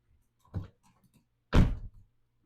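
A soft thud followed a second later by a louder solid clunk of a Volvo's rear door latching shut, with quiet surroundings in between.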